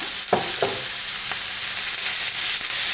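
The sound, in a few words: frying minced beef with onions in a pan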